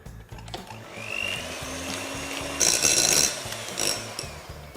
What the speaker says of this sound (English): you're going to want to whisk your double cream until it's firm